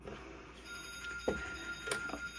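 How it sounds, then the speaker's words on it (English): A phone rings softly in a quiet room during mitten knitting, a thin sustained tone with a couple of faint chiming pulses and small knocks, fairly distant and low in level. "My phone's ringing, one moment."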